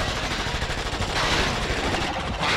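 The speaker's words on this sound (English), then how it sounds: "Oh, he's got a fucking machine gun. A Tommy gun." Continuous rapid automatic fire from a Tommy gun in the King Kong video game, a dense loud rattle running throughout with no pauses.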